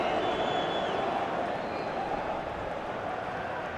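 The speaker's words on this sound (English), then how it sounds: "Jonathan Franks getting a round of applause as he comes on" Stadium crowd noise in FIFA 15 during a Hartlepool vs Crystal Palace match: a steady, dense roar of applause and murmuring spectators, evenly sustained and slightly distant, with no distinct individual claps standing out.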